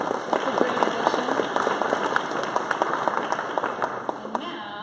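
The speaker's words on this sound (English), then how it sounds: "Let's give them a round of applause." Applause from a crowd at a startup pitch event, many hands clapping in a lively, crackling patter with a few sharper claps, steady across the clip.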